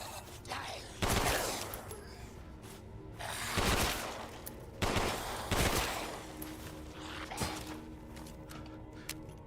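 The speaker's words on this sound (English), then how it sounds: "I basically got a machine gun." Rapid machine gun bursts ring out in Resident Evil Village, several separate volleys a second or two apart, each a sharp cluster of shots over a low ambient game hum, with clicks and mechanical noises between.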